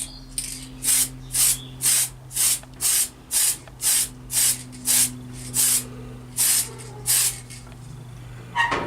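Tamiya PS black spray paint hisses from an aerosol can onto a model car body in about fourteen short, evenly spaced bursts, close and steady over a low background hum.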